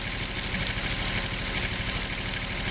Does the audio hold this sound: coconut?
no